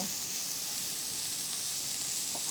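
Green onions sizzle steadily in a hot pan while being stir fried for turkey bacon egg rolls, a continuous close hiss with faint stirring and no talk.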